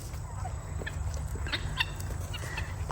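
Guinea fowl squabbling with a chicken: scattered short, harsh squawks and calls over a steady low background hum, close by, brief and agitated.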